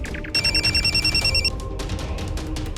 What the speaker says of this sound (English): hears the phone ringing